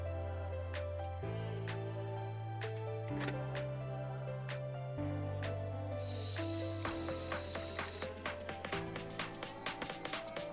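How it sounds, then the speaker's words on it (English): An airbrush blows cleaner through itself in a steady two-second hissing burst, heard over louder background music. "Okay, so I got my airbrush here. Just gonna run a little cleaner through it."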